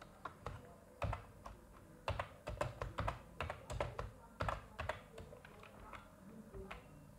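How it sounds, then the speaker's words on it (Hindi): Keys on a computer keyboard clatter in quick, uneven bursts of close, crisp clicks, with brief pauses between runs and no speech over them. "अरे टाइपिंग स्पीड भी सही है ना मेरे ख्याल से तो"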